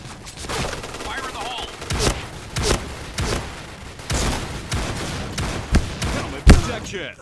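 Shotgun blasts ring out in a first-person shooter video game, a series of loud, sharp booms at irregular intervals, some close together, with a player's voice now and then between the shots.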